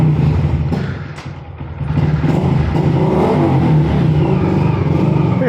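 A 2022 Honda Grom motorcycle pulls away and rides off, its small engine revving steadily and loudly close by with a brief dip before rising again, with no talk.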